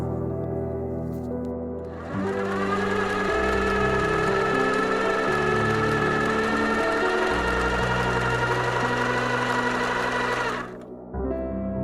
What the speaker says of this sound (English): what I'm doing is just sewing, just trying to do what I have explained earlier, sewing the both side